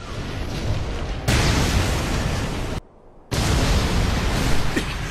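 Buildings in an anime city blow up with a loud, sustained explosive roar that swells, cuts out briefly into near silence, then returns as a dense rumbling blast.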